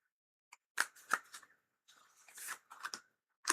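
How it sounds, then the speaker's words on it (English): Tarot and oracle cards are being shuffled in a few quick riffling bursts with short pauses between them, close and fairly soft. "That was a very lovely shuffle."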